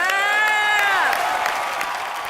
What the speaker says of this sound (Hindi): कॉमेडी नाइट बचाओ के लिए जोरदार तालियां